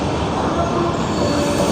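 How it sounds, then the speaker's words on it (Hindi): The Tejas Rajdhani express pulls out of platform 1 on time, a dense, steady rumble of rolling railcars with faint wheel squeal, loud and continuous throughout. "ऑन टाइम खुली अपनी तेजस राजधानी प्लेटफॉर्म नंबर 1 से"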